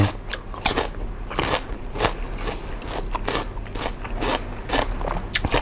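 Someone bites into grilled river prawns with a firm, crunchy crackle of shell, the sound coming as repeated close chewing and cracking bursts with no talking.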